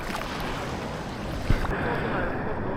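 A surfboard paddles out on calm, glassy ocean water, with soft splashes and trickling strokes under steady wind and a low wash of surf. One brief, sharper splash stands out midway through.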